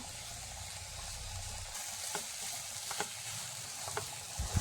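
Jackfruit and egg podimas frying in a pan, a soft continuous sizzle with occasional light spatula taps and scrapes as it is stirred, faint and close, no voices.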